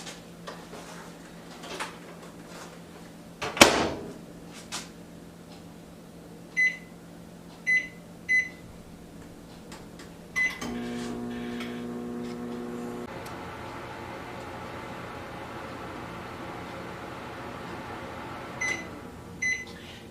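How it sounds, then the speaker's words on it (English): A microwave oven heats a potato on a plate, its steady hum running under the clicks and beeps of the door and keypad, with a louder thump near the start and a few beeps toward the end. "we're going to put the plate in the microwave with the potato for 5 minutes"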